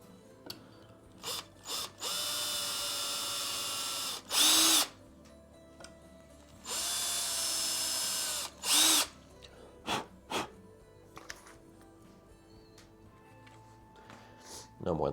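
A power drill with a small bit whines in two sustained bursts of about two seconds each, separated by short clicks and handling knocks, with someone talking in between.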